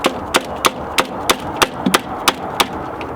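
A flathead screwdriver is smacked against a manual transmission part, about ten sharp metallic taps in a fairly even rhythm, close and distinct.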